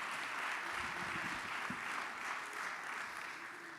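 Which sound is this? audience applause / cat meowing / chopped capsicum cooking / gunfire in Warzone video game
audience applause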